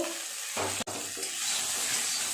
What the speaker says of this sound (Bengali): ভালো করে ফুলকপিগুলো ভেজে নিয়েছি, তুলে নেব।